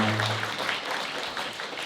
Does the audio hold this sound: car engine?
no